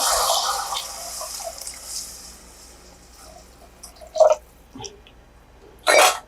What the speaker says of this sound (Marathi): अंदाजाने पाणी घालायचं आहे आपल्याला